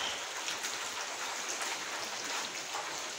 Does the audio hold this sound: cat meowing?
no